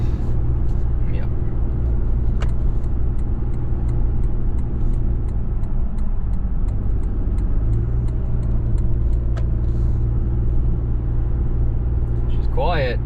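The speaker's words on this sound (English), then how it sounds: "She's quiet. It's a quiet truck." Cabin sound from a 2024 Toyota Tundra SR5 TRD Off-Road pickup cruising on the highway while towing. A steady low road and engine drone runs throughout, with occasional faint clicks and a passing tonal sweep near the end.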